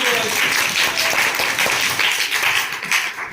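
Studio audience at a school science quiz competition show claps after a correct answer, a steady dense burst of applause close by that fills the whole stretch without pause.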